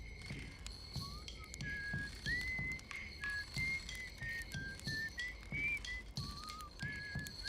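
Whistled melody from the Outer Wilds game soundtrack, a bright, wavering tune of short sliding notes repeating throughout over a soft steady rhythmic beat, close and moderately loud, with no talking.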